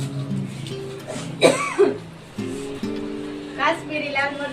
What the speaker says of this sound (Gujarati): મને તો ઉધરસ ને છીકું શરદી ચાલુ થઈ ગઈ છે